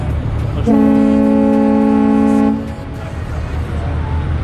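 A boat horn sounds on a harbor cruise in New York heading toward the Statue of Liberty: one loud, sustained, deep tonal blast of about two seconds over steady engine and water rumble.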